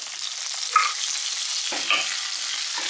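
Small onions sauté in hot oil with ginger and garlic for a Kerala squid roast, giving a steady close sizzle with a couple of brief stirring scrapes and no talking.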